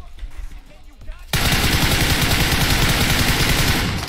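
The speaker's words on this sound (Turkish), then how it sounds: "Baba solda vuruyor" Sustained automatic gunfire in the battle royale game PUBG Mobile erupts abruptly after a quieter opening, a loud, dense stream of rapid shots that carries on steadily to the end.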